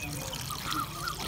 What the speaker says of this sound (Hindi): तकरीबन 2 गिलास पानी हमने ऐड कर दिए हैं।